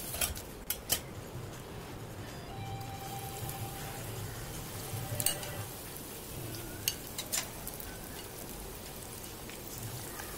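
Egg pakodas deep fry in hot oil, a soft, steady bubbling crackle close by, broken by a few sharper pops and clicks of a utensil.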